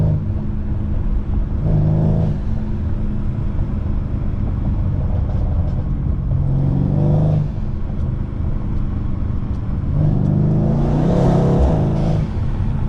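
A Mercedes C63 AMG engine rumbles deeply from inside the car, rising in several swelling revs as it downshifts in winter driving, loud and steady with no talking.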